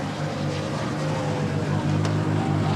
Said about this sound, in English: And it sounds very rough, the Ford Sierra Cosworth.